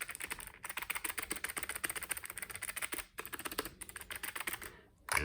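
Rapid clicky keystrokes from a Logitech G915 mechanical keyboard with clicky switches, a dense continuous patter of close typing with two brief pauses and no talk.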